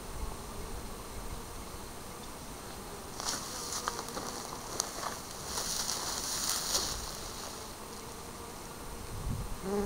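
Honey bees buzz around outdoor hives, a soft steady drone with a few louder passes as individual bees fly near, no talk over it.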